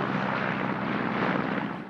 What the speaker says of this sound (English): the helicopter is coming towards us actually